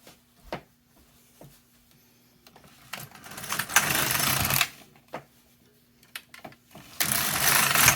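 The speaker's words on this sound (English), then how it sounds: "so long as the yarn flows smoothly through the machine, we can just go back and forth and continue to knit." A knitting machine carriage slides back and forth across the needle bed, giving soft clicks and then longer rushing sweeps in bursts, fairly quiet and close with no voices.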